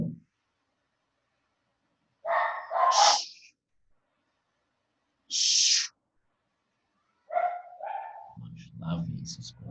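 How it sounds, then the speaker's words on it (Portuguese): A dog barks in a few short, spaced bursts of sharp barks, fairly close, with a person's voice heard nearby toward the end. "Esse cachorro perturbando já."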